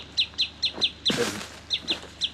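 A small bird repeats short, high, sharp chirps in a steady rhythm, close by at a lakeside canoe spot, briefly broken by a louder rustling burst.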